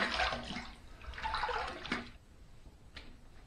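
Water splashes and runs during a face rinse after a razor shave, in bursts of running, splashing water that fade into quieter drips and a faint final splash.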